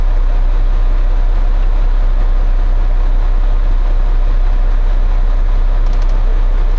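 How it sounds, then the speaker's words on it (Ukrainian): A used Fendt 1038 tractor engine idles continuously at close range, a steady low, constant rumbling hum with no talking. "Трактор заведено, трактор працює тихо, без посторонніх звуків, шумів."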